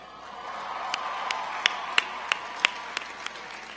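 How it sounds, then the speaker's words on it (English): Sustained applause from a large commencement audience honoring graduates' parents and families, a steady wash of many hands clapping with a few sharper individual claps standing out. "the graduates can thank you with a big round of applause"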